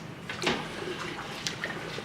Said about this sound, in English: So I'm going to stir while I mix this in, or stir while I pour this in.